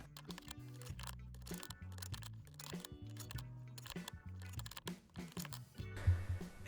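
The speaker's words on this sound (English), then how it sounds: "Now I'm gonna screw in" Screws being driven into a car's blower motor housing, heard as a series of short, close clicking and grinding bursts with gaps between them, ending in a louder rattling scrape.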